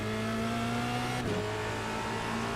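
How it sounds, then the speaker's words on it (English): Race car engine in the iRacing video game at the Miami International Autodrome, a steady tonal drone that dips sharply as the driver shifts down to second, then climbs back up under power. "Down to second here, squeezing on the power, and then coming off, back on it."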